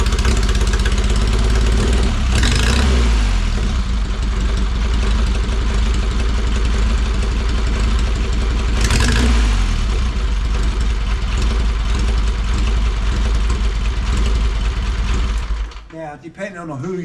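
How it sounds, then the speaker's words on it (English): A 1939 Indian Four motorcycle engine runs loud and close, with a continuous throbbing idle and a couple of brief revs, then the sound drops and wavers near the end. "So we've got fuel on, choke on, just a couple of priming kicks, choke off, retard the spark,"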